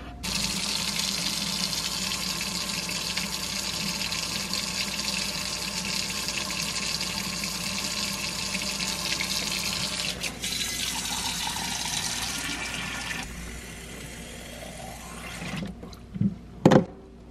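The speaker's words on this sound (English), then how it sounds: "I'm gonna fill up 2 gallon jugs of water." Tap water gushing into two gallon jugs outdoors in winter, a steady rushing pour that shifts in tone as the jugs fill and then ends in a few knocks and clunks.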